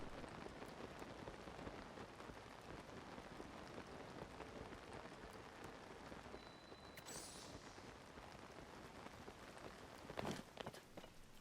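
Steady rain patters continuously in the video game Zelda: Tears of the Kingdom, a dense soft hiss of drops with footsteps and a brief sharper sound near the end, no voices.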